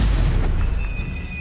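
Stupefy spell blast fired during a dark wizard battle in Hogwarts Legacy, a loud, close boom that bursts at the start and rumbles down over a second, with a thin ringing tone trailing behind.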